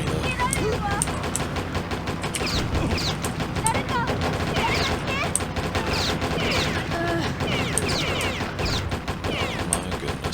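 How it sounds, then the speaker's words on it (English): Constant gunfire in the video game POSTAL, rapid overlapping shots and bursts with mechanical clatter and crashes packed densely throughout, while a voice talks over the din. "There are a lot of people shooting at me though."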